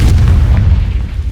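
A Confringo fire spell blast from Hogwarts Legacy: a loud, steady low booming rumble that fills the whole short moment with dense, close explosive energy and no break.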